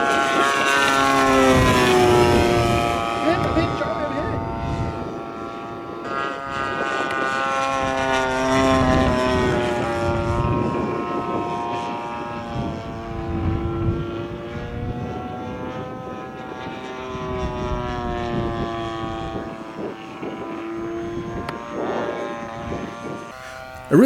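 Radio-controlled model warbird airplane flying at an RC club field, its engine buzzing and whining with pitch rising and falling as it passes overhead, continuous and moderately loud.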